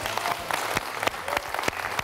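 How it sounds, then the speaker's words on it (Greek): Applause from an indoor audience honouring a pilot, a steady wash of clapping with a few sharper claps standing out, moderately loud throughout. "σας παρακαλέσω το χειροκρότημα αυτό να είναι δυνατό"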